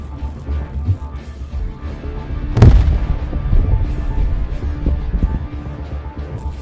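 A Russian tank hitting a landmine during a large battlefield assault: one sharp, heavy blast with a booming low rumble that rolls on afterward over a dense background of combat noise.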